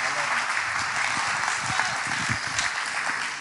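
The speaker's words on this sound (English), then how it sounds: "Clap your hands one more time to the Lord." A church congregation claps along in a continuous, fairly even burst of many hands, steady and moderately loud throughout with no voices standing out.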